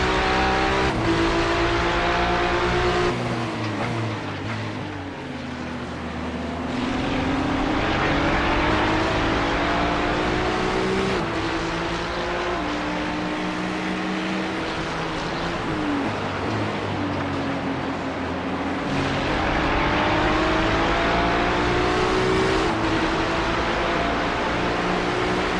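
Race cars including a Porsche in the iRacing video game at the Bathurst 12 Hours, engines roaring loud and continuous with rising and falling revs through gear changes, several cars overlapping throughout.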